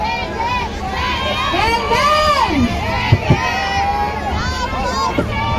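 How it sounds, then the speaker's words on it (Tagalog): A large crowd at a UAE gathering shouts back in response to a call, with loud cheering and excited voices that swell and overlap, close and continuous. "UAE magbigay ng isang sigaw!"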